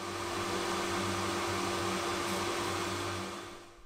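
A 22W laser engraver works on wood, giving off a steady, loud whirring and hissing from its fan and air assist that holds even for about four seconds before tapering off at the end.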